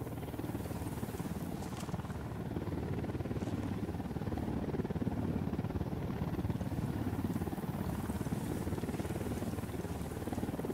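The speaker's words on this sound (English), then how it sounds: "Don't need that chopper." Helicopter in the video game Ghost Recon Wildlands at night, a low, steady rotor and engine rumble droning continuously at moderate distance, faint and unbroken.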